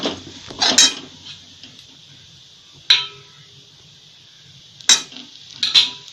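Dry date powder is dry-roasted in a pan for methi ladoo. A spatula gives a few sharp, close scrapes and clinks against the pan, spaced out over a soft, steady background hiss.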